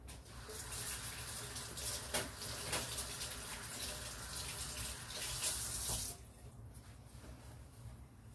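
Kitchen tap water running steadily while chocolate is washed off hands, a close, continuous gush with splashing for about six seconds before it shuts off, leaving faint room tone.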